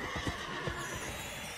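A horse neighs in the Magic: The Gathering Arena video game, a short whinny with a couple of wavering pulses, quiet and alone.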